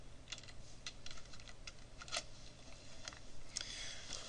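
Rapid, light clicking of keys on a computer keyboard as a search is typed, with irregular bursts of close, crisp taps and no talking.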